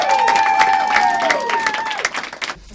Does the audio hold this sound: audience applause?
yes